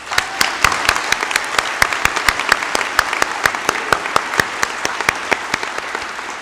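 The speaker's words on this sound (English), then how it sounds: "can we please have a round of applause for our graduates?" Applause for graduates at a SUNY WCC spring commencement ceremony: a large audience clapping steadily, with sharp individual claps standing out over a dense wash, sustained and fairly loud throughout.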